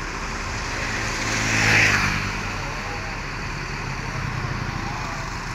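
An ALS bus, number 311, arriving in Yogyakarta with its engine running, a steady low rumble that swells briefly before settling back to an even drone.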